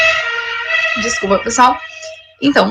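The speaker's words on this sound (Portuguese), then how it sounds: "passando uma ambulância aqui," An ambulance siren passes in the background as a steady tonal wail running beneath a person lecturing about agitators and fat-sugar mixtures, and it fades out toward the end.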